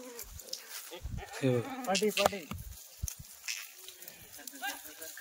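Kathewadi goats bleating on a farm, several wavering nearby calls in quick succession among background chatter and a person speaking.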